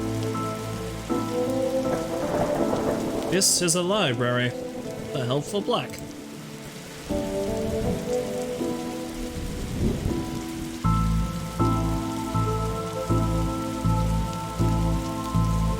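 Steady rain with rumbling thunder in the Darkside Detective video game, a broad wash of rainfall under game music and spoken dialogue throughout.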